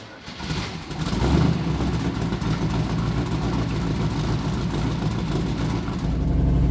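A 1969 Chevrolet Camaro Z28 with its engine running, a steady close mechanical rumble with a slight rise in revs near the start, no voices.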